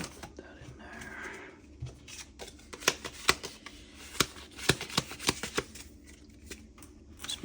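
A deck of playing cards is handled close by while artwork is being framed and mounted, giving a run of sharp riffling clicks and snaps over soft rustling, with faint low voices in the background.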